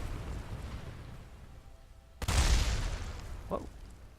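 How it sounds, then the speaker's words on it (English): Explosion in the video game Kerbal Space Program during a downhill rover run: a sudden loud boom that rumbles on for about a second and then fades, with no talk over it. "Did the explosion fling him backwards?"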